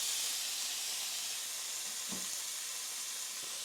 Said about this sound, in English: just to create a little bit of steam